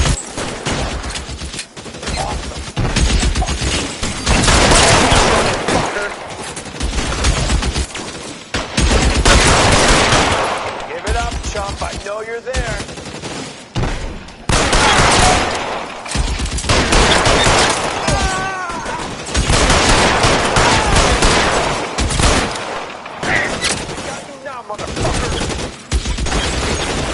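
Loud bursts of automatic gunfire from a video game shootout, dense rattling volleys repeating across the whole stretch with short gaps between them, no voices over the shooting.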